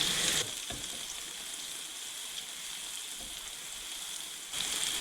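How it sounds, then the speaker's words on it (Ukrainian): Steady crackling sizzle of mushrooms frying in a pan, a continuous bright hiss with slightly louder bursts at the start and end. "відкриваю кришку та обсмажую без кришки"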